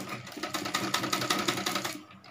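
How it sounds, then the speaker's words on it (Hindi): A sewing machine stitches a curved palazzo waistband strip, running in a steady fast mechanical chatter close up for about two seconds before easing off at the end. "ऐसे ही इसकी हम गोलाई में सिलाई कर लेंगे।"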